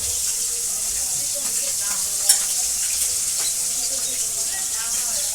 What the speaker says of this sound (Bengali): ফার্স্ট টাইম মামা মাছ ভাজি।